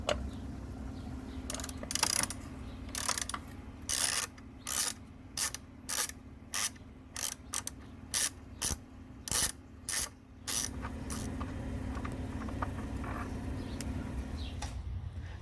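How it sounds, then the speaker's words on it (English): A 13mm ratchet clicks in quick repeated bursts, about a dozen strokes, while unscrewing a battery retainer bolt on a Chevrolet Sonic, close and clear over a low background hum. "With a 13mm, you want to unscrew the retainer bolt."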